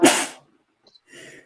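A single sharp sneeze bursts out up close, followed by a short pause and a faint breathy rustle.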